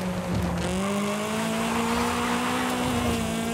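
An Initial D AE86 replica inertia-drifts in Forza Horizon 5, its engine holding a loud, steady droning note with a faint tire squeal near the start, continuous throughout.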